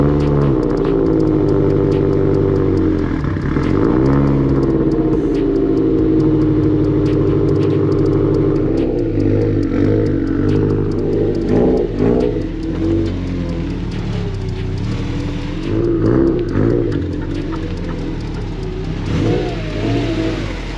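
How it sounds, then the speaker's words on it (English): A Subaru STI in a garage cold-starts and idles with a deep, loud rumble, then is revved repeatedly in rising and falling sweeps, the engine close and dominant throughout. "Let's go ahead and get the car in the garage. We'll get a nice cold start."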